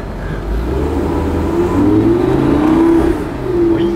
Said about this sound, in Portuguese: vamos acelerar essa Lamborghini aqui